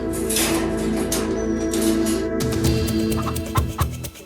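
Chickens tethered to milk bottles cluck and squawk nearby amid busy background noise, with a few sharper calls toward the end.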